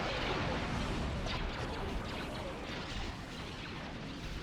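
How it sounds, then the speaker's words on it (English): Laser cannon fire in a Star Wars space battle video game, heard as a dense, continuous barrage of booming blasts and crackling bursts that fill the whole clip at steady loudness. "Incoming laser cannon fire."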